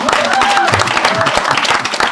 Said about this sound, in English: Let's give a round of applause for Lita.